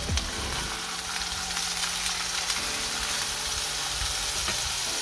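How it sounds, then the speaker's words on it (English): Homemade Cajun-spiced burger patties sizzle steadily in a hot pan just after flipping, a loud continuous close crackle with small pops and a faint low hum underneath, no voices. "Now they are sealed on one side, so I'm gonna flip them on the other side."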